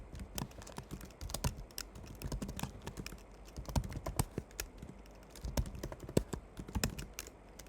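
Rapid keystrokes on a computer keyboard as values are typed into a .env configuration file, a steady close clatter of individual key taps with uneven bursts and no speech.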